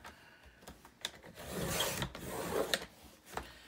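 Paper trimmer blade slicing strips of 12x12 patterned paper for 3-inch tags, giving quiet rasping, sliding cuts with small clicks, close by and without talk.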